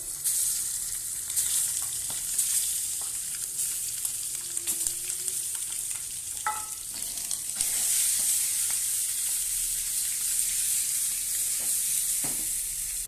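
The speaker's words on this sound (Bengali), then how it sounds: "ভাজা হয়ে গেছে ডিম আমার" Eggs pricked with a fork fry in oil in a pan, a continuous close sizzle with scattered crackles and pops that carries on evenly throughout, with no voices over it.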